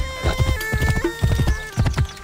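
Horse hooves clip-clop in a steady, fairly loud rhythm as a horse approaches in Assassin's Creed Origins, with a brief whinny, music or ambience tones sustained underneath.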